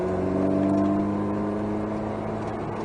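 An Alpine A110S race car on the Nogaro circuit, its engine note droning steadily and rising slightly as it accelerates, heard loud and close from inside the car.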